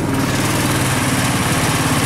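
A Taiga snowmobile engine with a freshly cleaned carburetor labours loudly while climbing a snowy hill, a close, continuous pulsing roar with heavy vibration.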